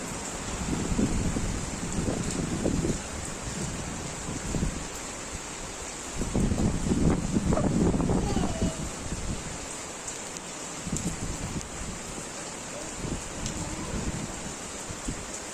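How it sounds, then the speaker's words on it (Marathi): Steady unseasonal downpour with gusts of wind buffeting the microphone, a continuous rushing wash that swells and eases, no voices. "आज आमच्याकडे खूप जोरदार पाऊस आहे"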